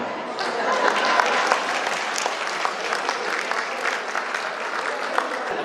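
An audience at a 50th wedding anniversary celebration bursts into sustained applause, a dense continuous clatter of many hands filling the room, fairly loud and steady with scattered sharper claps standing out.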